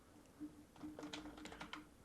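Typing on a laptop keyboard, a quick run of soft, close key clicks in an irregular rhythm over a faint steady hum.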